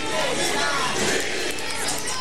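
A tennis crowd at the 2004 Viña del Mar tournament keeps up a loud, dense roar and chant throughout, with no break from the massed voices.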